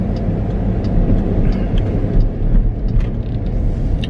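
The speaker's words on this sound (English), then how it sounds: "That was a Lamborghini." A Lamborghini driving past on a road in India, its engine a loud, close, continuous rumble with no talking.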